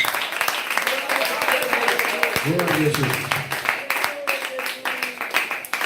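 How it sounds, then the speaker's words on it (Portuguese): Congregation clapping during an evangelical church sermon, a steady wash of applause under a preacher's voice calling out, with a sung or shouted phrase rising in the middle. "Bate mais palmas da glória de Deus"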